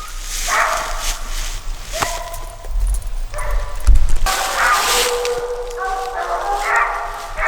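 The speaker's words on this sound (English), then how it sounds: "I'm surprised they treed together, Billy." Hunting hounds bark and bawl repeatedly at a treed animal outdoors at night, overlapping howls and yips close by, with people talking quietly underneath.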